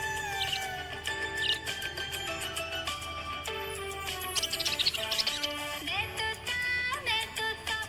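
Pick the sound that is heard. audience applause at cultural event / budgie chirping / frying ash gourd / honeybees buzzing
budgie chirping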